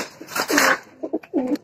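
Racing pigeons coo close by in a loft, several soft rolling coos in quick succession with brief pauses between them, clear and near with no talking.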